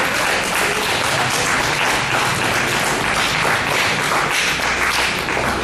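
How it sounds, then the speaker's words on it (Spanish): A church congregation applauds during a worship service, dense continuous clapping that fills the space loudly and evenly from start to finish. "Siéntese, por favor, y dele un aplauso bien lindo y fuerte para el Señor Jesucristo."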